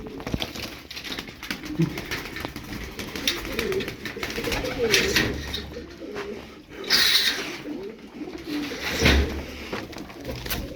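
Tumbler pigeons coo softly and repeatedly at close range, low murmuring calls with some rustling, while someone talks over them.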